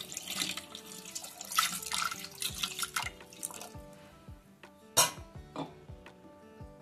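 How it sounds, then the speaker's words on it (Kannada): Water splashes and drips close by into a pot of jaggery for syrup, a run of irregular trickles and droplets with a few sharper splashes, alone without speech. "ಸ್ವಲ್ಪ ನೀರು ಹಾಕೋಬೇಕು ಬೆಲ್ಲ ಹಾಕಿ"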